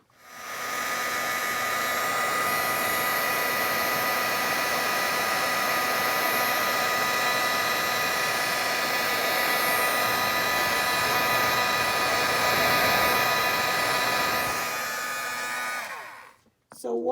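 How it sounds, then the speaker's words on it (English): A heat embossing tool blows steadily as it melts embossing powder on a small stamped craft tile, a loud continuous whirring hum lasting about fifteen seconds before clicking off. "And then I'll emboss it."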